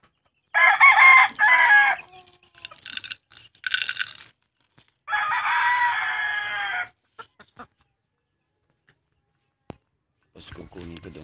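Fighting roosters crow loudly and close, several long calls in a row, with scattered clucks and light knocks in between and a voice talking faintly near the end.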